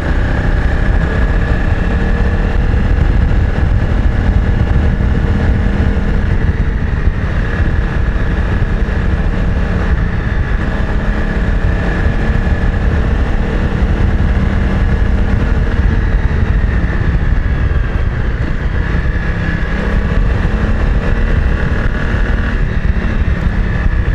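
Honda CRF 250 Rally motorcycle engine running steadily while riding, a constant close drone mixed with heavy wind rush, unbroken for the whole stretch.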